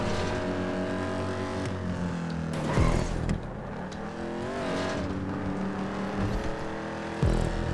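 A race car engine in GTA 5 Online, not fully upgraded and without turbo, roars loudly and steadily, its pitch climbing and dipping through gear changes with brief tire noise, and no talking.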